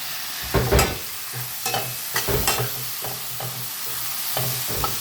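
Vegetables stir-fried with soy sauce in a pan, a soft continuous sizzle broken by several sharp scrapes and clacks of a utensil against the pan, close up with no talking.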